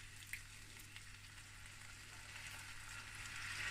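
Tinned tomatoes sizzle in a pan for a curried beef stew, a faint, steady crackling fry that grows slightly louder toward the end, with no talking.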